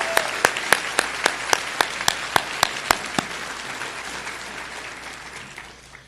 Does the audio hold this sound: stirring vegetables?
no